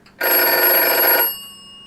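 An old telephone bell rings loudly in one continuous trill lasting about a second after a number is dialled in a workshop, then dies away with a fading metallic ring.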